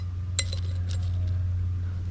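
An old glass jar clinks once sharply as it is handled outdoors, followed by a couple of fainter taps over a steady low hum.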